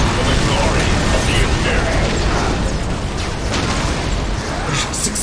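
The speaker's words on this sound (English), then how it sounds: "There's just explosions raining down on" Explosions rain down in a Dawn of War battle against Eldar bases, a dense, loud, continuous roar of blasts and crackling booms with mechanical clatter layered throughout.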